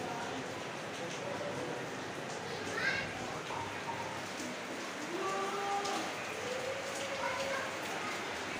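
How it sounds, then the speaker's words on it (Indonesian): Steady rain falling outdoors on an afternoon after a hot day, a faint continuous hiss with scattered background sounds and faint voices mixed in. "Untung cucianku udah kering deh pas turun hujan."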